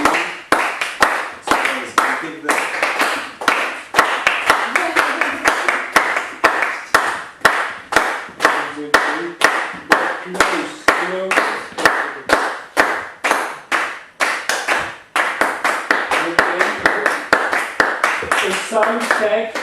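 Hand clapping right in front of a microphone during a sound check, a long run of sharp, loud, close claps in a quick, steady rhythm with brief pauses between bursts.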